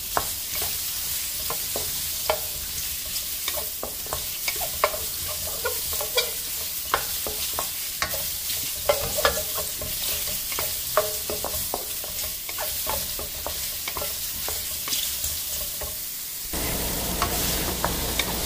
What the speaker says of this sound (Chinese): 就这样不停地晃动，不停地翻动，把蘑菇慢慢炒了变色